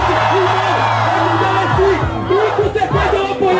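Rap battle crowd shouting and whooping together, a loud, sustained chant of many voices that swells and breaks into cheers, close and dense throughout.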